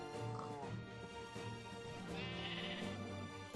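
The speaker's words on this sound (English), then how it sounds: "Oh! Stupid sheep." Sheep bleat in the Minecraft video game, a few wavering calls close by with a faint background tone and no speech.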